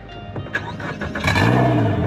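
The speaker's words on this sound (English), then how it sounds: "That noise will tell you that your exhaust pipe is out of the water." An outboard engine on a small boat starts while trimmed up with its exhaust out of the water, cranking briefly before catching into a loud, raw, steady drone close by.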